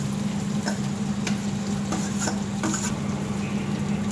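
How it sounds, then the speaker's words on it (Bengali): Chopped onions fry in a pan of butter and white oil for butter chicken, giving a steady close sizzle with occasional soft clicks and taps. "এবার পেঁয়াজগুলো দিয়ে দেওয়া হচ্ছে।"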